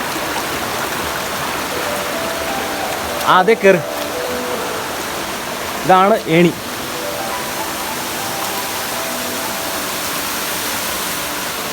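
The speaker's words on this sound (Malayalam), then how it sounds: "വെള്ളം ഒഴുകുന്നതിന് നല്ല കളകള ശബ്ദം കേൾക്കാം" A forest stream flows with a steady, continuous rush of water throughout, while short bursts of speech break in twice over the top.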